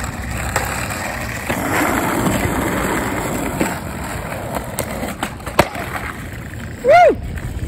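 A skateboard made from California wood rolls over pavement with a steady wheel rumble, then a few sharp clacks from the board popping and landing, with a short voice exclamation near the end.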